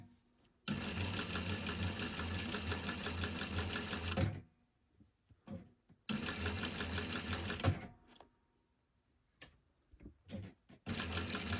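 Close sewing machine stitching a pocket seam on a garment, running in a long burst of nearly four seconds, then a shorter run and a third starting at the end, with quiet pauses between.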